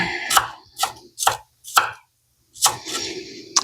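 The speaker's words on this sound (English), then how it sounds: "just rough chopping to make them small so that I don't bite into a huge onion" Knife rough-chopping onions on a cutting board for an omelet in a home kitchen, heard as about six distinct close chops in an irregular rhythm with short pauses between them.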